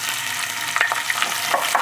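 Chopped onion frying in a pan for surakkai moor kulambu, a brief close sizzle with light crackling pops and a few stirring scrapes, steady and moderately loud, with no speech.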